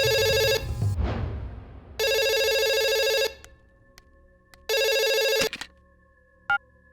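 A telephone rings indoors in three loud electronic bursts with gaps between them, and a brief beep comes near the end. The call is from the Home Minister, and no one speaks over the ringing.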